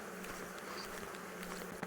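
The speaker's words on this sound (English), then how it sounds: "going to shake these bees into here so that I don't squish them on the edge" Honeybees at a hive being worked make a soft, steady buzzing drone that continues throughout, quiet and close with no voices.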